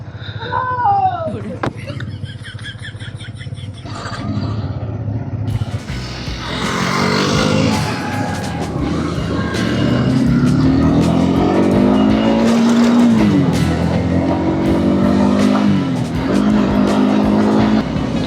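Motorcycle engines of a small group ride rev and rumble loudly as the riders set off, a dense continuous roar with rising and falling throttle pitch, preceded by a brief quieter start.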